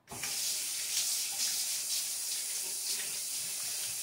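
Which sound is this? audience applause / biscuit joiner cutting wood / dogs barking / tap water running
tap water running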